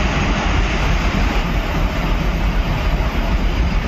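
Locomotive approaching Ahiron halt station amid night rail-bridge construction, a loud, steady broadband engine roar and rumble filling the whole stretch without letting up.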